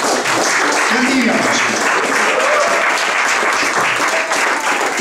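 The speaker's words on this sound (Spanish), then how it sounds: "Denle un fuerte aplauso al Señor." Loud, steady applause from a church congregation during a vigil service, sustained and dense for the full length, with voices faintly mixed into the clapping.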